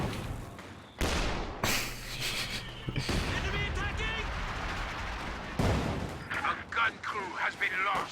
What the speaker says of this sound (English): Can the infantry support gun shoot it from all the way over there?